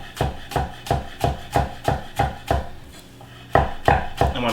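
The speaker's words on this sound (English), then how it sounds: "chopping up all of my greens and herbs here." A knife chops wild greens and herbs steadily on a cutting board, about a dozen crisp even strokes with a brief pause before the last few.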